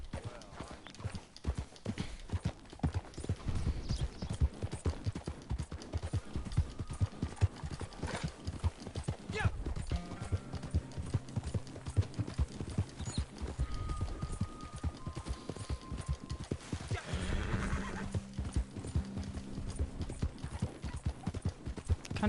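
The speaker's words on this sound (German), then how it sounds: "Bruder Günther, das Pferd." Steady clip-clop of horse hooves trotting in Red Dead Redemption 2 Online, with a brief whinny partway through and faint background tones.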